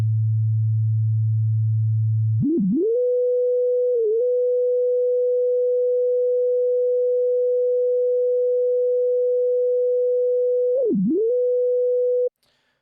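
A synthesized sine tone from a Tone.js data sonification starts low, sweeps up and holds steady, with brief dips in pitch before cutting off abruptly; clean, loud and alone.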